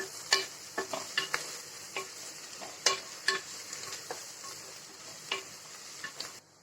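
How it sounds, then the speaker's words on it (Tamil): Ginger garlic paste sautés in a pan for kuska, a soft continuous sizzle broken by a dozen scraping stirs of a spoon, heard close but quiet, with no voices. "பச்சை வாசனை போகிற அளவுக்கு வதக்கிக்கிறோம்."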